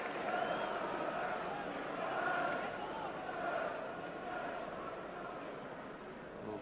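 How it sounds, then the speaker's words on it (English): Large stadium crowd at a 1993 Rangers versus Hearts football match applauding two players during a substitution, a steady broad roar of clapping and voices held at constant level throughout. "So applause for both players."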